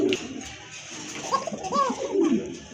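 Nervous pigeons at a market stall give a few soft, low coos close by, faint and intermittent against a murmuring background.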